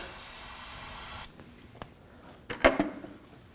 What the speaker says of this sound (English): We're going to go ahead and spray some brake parts cleaner on a rag